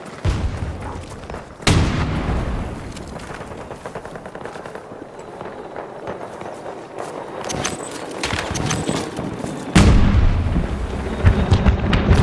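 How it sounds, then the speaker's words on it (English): A grenade explodes in Battlefield 2042 amid ongoing gunfire. Sharp, loud blasts hit twice against continuous rattling combat noise. "Grenade away!"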